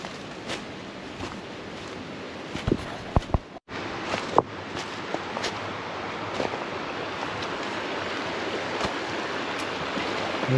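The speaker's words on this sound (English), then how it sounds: "Excess water would go back into the brook." A brook flows steadily beside a spot where an old water wheel once stood, a constant broadband rush of water with a few faint clicks and knocks.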